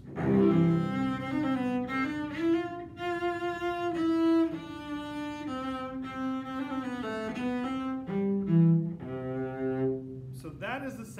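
Cello playing a run of very high notes at the top of its range, bowed phrases with clear sustained pitches and slight slides, solo and fairly close, ending with a brief sharp noise.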